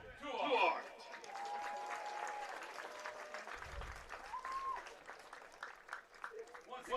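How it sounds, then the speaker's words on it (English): Spectators at a boys varsity high school soccer game applaud the graduating seniors, sustained moderate clapping from a crowd with people talking over it and a brief low thump partway through. "a big round of applause for your soccer Cardinal seniors"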